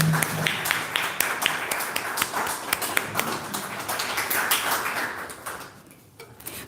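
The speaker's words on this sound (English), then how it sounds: "A round of applause, please." Audience applauding at a foundation lecture during a shawl presentation, scattered sharp claps that thin out and fade toward the end.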